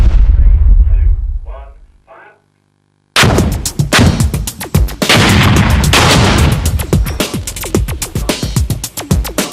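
Plastic explosive and shaped charge detonations in tank armour tests: a loud close blast with rumbling aftermath, a short silence, then a second violent detonation with crackling, debris-like bursts that slowly decay.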